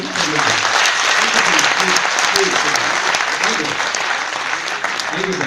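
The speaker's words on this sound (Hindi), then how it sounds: "एक बार इनके लिए ताली बजा देंगे।" Loud, dense audience applause fills a meeting hall at Moulali Yuva Kendra in Sealdah, Kolkata, sustained clapping from a sizeable crowd with voices mixed in beneath it.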